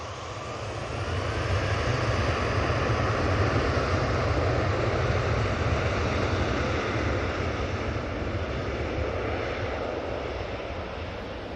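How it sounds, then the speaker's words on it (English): A Ryanair jet takes off for Barcelona at Manchester Airport, its engines a steady broadband roar that swells early and holds loud and close throughout, with no talk over it. "let's get this Ryanair off to Barcelona"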